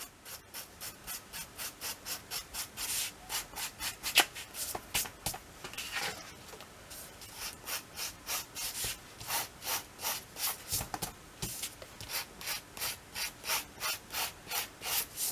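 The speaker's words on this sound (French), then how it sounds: "je vais éviter de limer de trop" Steady, rhythmic rasping of a hand file worked gently back and forth on a small piece, close and moderately loud, with regular strokes filling the whole stretch and no talking.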